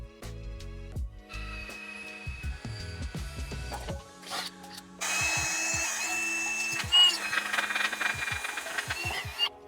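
A small drill bit bores bracket holes on a 2023 Ram 2500 in short, close power-drill bursts that start and stop, followed by a longer steady high whir of drilling.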